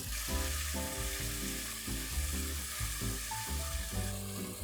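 Onion and tomato masala paste sizzles and fries in hot oil in a pan, a steady hiss running throughout beneath louder rhythmic thumps of music.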